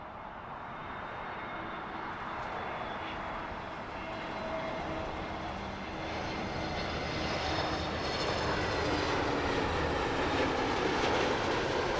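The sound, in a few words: Speedbird 811 aircraft landing on Heathrow runway 09 left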